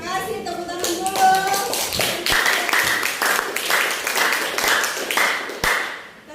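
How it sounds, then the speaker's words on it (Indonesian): Hands clap together in a classroom, a steady burst of applause from a group of students that runs throughout, with a few voices speaking over it. "Tepuk tangan dulu."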